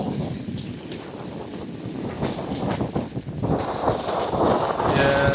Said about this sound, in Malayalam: കാറ്റ് ഭയങ്കരമായിട്ടോ.